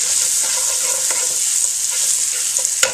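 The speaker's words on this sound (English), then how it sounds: "so I can go and add my scallions in and get them started" Scallions sizzle steadily in a hot pan, a continuous close frying hiss with a few light stirring clicks.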